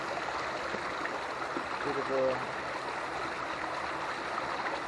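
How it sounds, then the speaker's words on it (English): A small waterfall pours through a wall into a lake, giving a steady, moderately quiet rush of water throughout, with a short spoken remark partway through. "waterfall there, going through the wall, flowing down into the lake"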